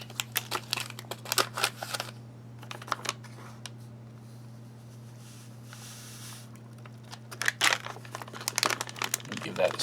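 An MRE beverage powder packet torn open at its tear notch, heard as bursts of crinkling and ripping plastic-foil close up, with a quiet stretch between and a steady low hum underneath.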